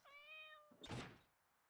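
A cat gives a single clear, drawn-out meow in a bathroom, followed by a dull thunk and rustling knock close by. The whole sound is quiet.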